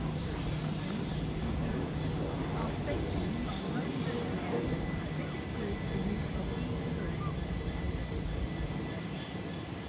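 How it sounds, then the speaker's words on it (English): A Horsham-bound train pulls out of Clapham Junction station close by, making a continuous broad roar and rumble that holds steady and fades slightly toward the end. "the Horsham departs beside me"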